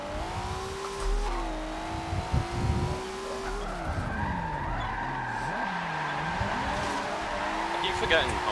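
In a racing video game, a tuned SSR car slides through a drift with a steady engine drone and tire squeal that rises and bends in pitch, while a voice talks faintly underneath.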